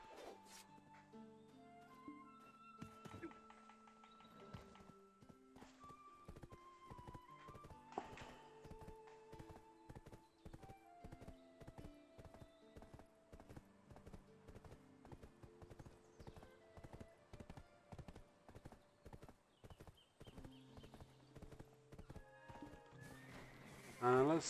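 A horse in the Black Desert Online video game trots with steady, rhythmic clip-clop hoofbeats close by over soft tonal game music, with whinnies breaking in and a louder burst at the very end.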